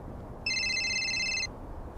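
A telephone rings with a bright electronic warble, one burst of about a second that starts sharply and stops abruptly over low background noise, with no one speaking.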